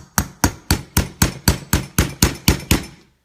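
Eleven sharp metallic hammer strikes punch holes in a metal can filled with ice, landing in a steady, even rhythm, each ringing briefly before the next blow.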